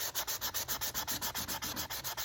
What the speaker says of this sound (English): it should smooth out nicely when I start sanding it